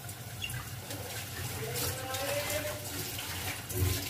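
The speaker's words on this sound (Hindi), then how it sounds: "पानी डाल दें इसमें अभी" Water poured into a cooking pot of lentils and meat, a steady splashing, running flow that continues throughout at close range, with faint background noise and no talk.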